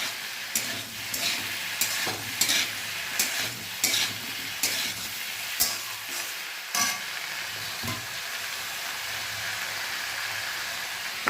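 Squeezed soya chunks fry in a pan with a steady sizzle, while a spatula scrapes and knocks through them in quick bursts before the stirring eases and the frying hiss carries on alone.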